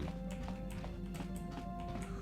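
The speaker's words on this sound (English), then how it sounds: "The soft pitter-patter of footsteps, it again." Soft pitter-patter of footsteps in Star Wars: Knights of the Old Republic on a starship, quick regular taps repeating over a humming background, close and unaccompanied by speech.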